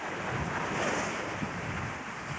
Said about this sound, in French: le bruit des vagues, je sais pas vous, mais moi, je ne résiste pas